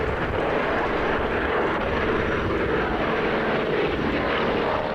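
An old propeller aircraft drones overhead at an air show, a steady, fairly loud engine rumble that holds for several seconds with no talking.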